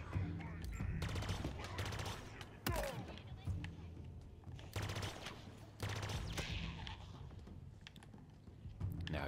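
Halo Infinite gunfire crackles in rapid automatic bursts alongside keyboard typing clatter, firing in irregular clusters at moderate loudness with game effects mixed in.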